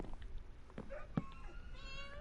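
A Minecraft cat meowing in Bedrock Edition gameplay, one short faint meow partway through over a quiet background of game ambience.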